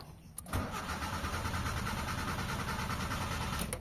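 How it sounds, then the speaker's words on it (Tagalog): A Mitsubishi Lancer with a power fault cranking steadily for several seconds without catching, the starter whirring continuously from a sharp onset until it cuts off. "Ayan, so start natin yung engine. Ayan, start natin. Ayan mga bossing, ayaw talaga niya umandar."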